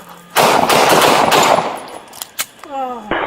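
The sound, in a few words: police officer firing gunshots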